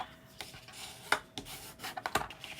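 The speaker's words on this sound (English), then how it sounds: "Burnish that down." A fold in paper for an origami heart envelope is pressed flat by hand, giving soft, close rubbing and scraping with a few sharper ticks, quiet and without speech.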